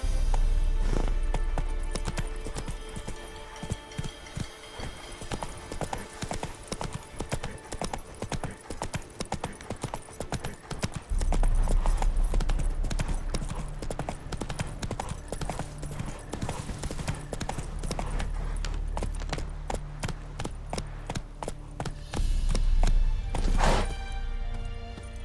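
Horse hooves clip-clopping at a steady gallop in The Witcher 3 video game, loud and continuous with rhythmic pounding, brief pauses and shifts in pace, and a snort or whinny near the end.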